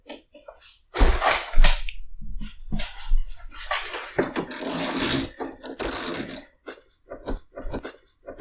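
A Harbor Freight ICON double box-end wrench turned by hand on a bolt, giving loud, close mechanical clicks and metallic ratchet-like grinding in irregular bursts, with brief gaps between efforts.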